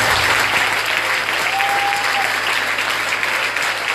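Sustained applause from a church congregation at a vigil at the Saint Ignace de Loyola parish, steady dense clapping filling the room throughout with a faint tonal note briefly rising above it.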